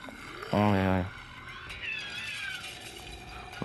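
A cat meows in the zombie game Dead Island 2, one loud, drawn-out harmonic cry near the start, followed by quieter game ambience and faint tonal sounds.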